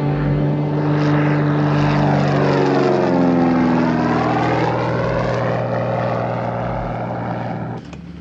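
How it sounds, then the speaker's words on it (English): A propeller airplane revs up and takes off, its loud, steady engine drone with sweeping harmonics rising and then falling away over about eight seconds, with no voices. "We'll take off right away then, ma'am."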